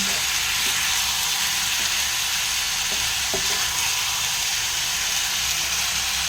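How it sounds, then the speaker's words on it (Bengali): Ginger, garlic, green chili and tomato paste fry loudly in a pan for chicken kosha, a constant, close sizzling hiss broken by a few soft scrapes as the mixture is stirred. "এখানে আমি এবার আদা, রসুন, কাঁচা লঙ্কা, টমেটোর পেস্টটা দিলাম। এবারে সব একসাথে মিক্স করবে।"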